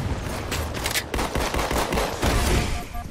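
Pistol gunfire in a Halo: The Master Chief Collection multiplayer match. Rapid, loud shots crackle in dense clusters over about three seconds of close-range combat.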